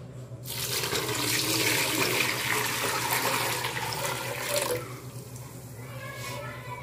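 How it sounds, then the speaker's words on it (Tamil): Two liters of water poured over nannari root, a continuous splashing gush for several seconds that tapers to a quieter trickle. "நான் இப்போ வந்து இதை வந்து ரெண்டு லிட்டர் தண்ணி இதில் நான் ஊற்றி இதை ஊற வைக்க போகிறேன்"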